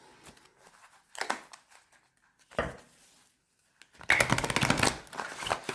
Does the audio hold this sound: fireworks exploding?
no